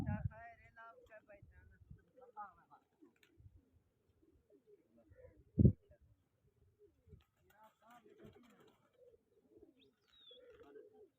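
Pigeons cooing and calling outdoors at a pigeon-flying contest, soft bird calls mixed with people talking, a loud thump in the middle and faint chirps later.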